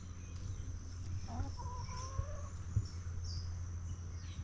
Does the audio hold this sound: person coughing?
no